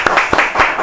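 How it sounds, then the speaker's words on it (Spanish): A few scattered hand claps from a small studio audience on a Paraguayan news show, close and brief, with no talk over them. "un fuerte aplauso"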